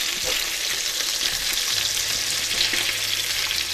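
Salisbury steak patties sear in a hot pan with a steady, loud, close sizzle and crackle that holds evenly throughout, with no talking.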